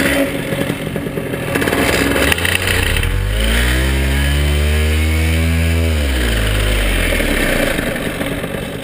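A paramotor engine at a paragliding school on an airfield roars loudly and close, its pitch climbing as it revs up, holding high, then dropping back down.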